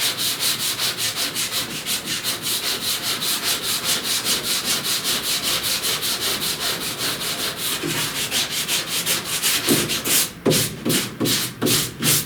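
Sanding block rasping steadily back and forth over primer on a car body panel, fast regular strokes loud and close with no talking, a few heavier, slower strokes near the end.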